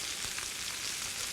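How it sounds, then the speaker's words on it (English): Steady, bright sizzling of veal shanks searing in a hot pan, a continuous crackling hiss with no voices. "you wanna really hear a nice sizzle when it goes in there"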